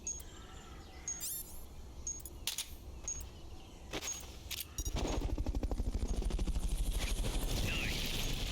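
A helicopter arrives in the Metal Gear Solid: Peace Walker video game, its rotor chopping in a loud, rapid, steady beat after a few seconds of sharp game effects and chirps.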